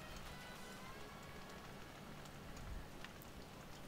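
Steady rain hisses evenly and continuously in the Gwenddwr map of a farming video game, a dense, moderate wash with no letup.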